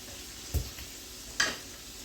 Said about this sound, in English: You're gonna let this simmer for a couple of minutes.